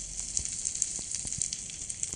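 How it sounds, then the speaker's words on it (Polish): Minecraft fire burns close by in the Nether, giving a constant soft hiss with scattered small crackles and pops, steady and alone without talk. "Nie dosięgnę tego ognia, żeby go zgasić"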